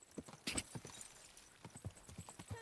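Horse hooves clip-clop in Kingdom Come: Deliverance, a steady series of soft, fairly close thuds walking along, with a brief brighter burst of movement near the start.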